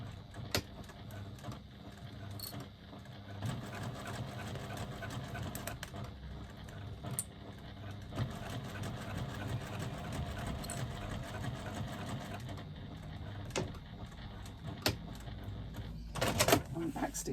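A sewing machine stitching lining fabric a quarter inch in, a steady low mechanical whir running nearly the whole time with light clicks and taps, a few louder thumps near the end.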